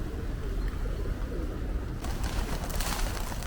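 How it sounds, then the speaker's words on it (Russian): Pigeons cooing in a flock at a busy spot near a Kraków gallery in Poland, a low steady murmur blended with outdoor crowd and traffic noise, without clear distinct calls. "ну и голубятня."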